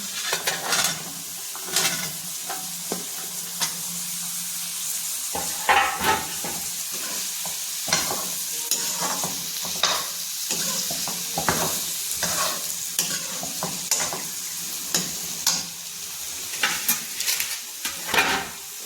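Chopped turnips sizzle steadily in a hot pan for a mixed vegetable dish, with frequent scraping stirs and spoon clatter against the metal, close and without talk.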